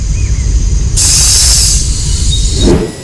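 The 13141 Teesta Torsa Express rolls along the rails on the Sealdah to New Jalpaiguri route, heard from on board as a loud, steady rumble with a bright hiss and a thin metallic squeal running through it.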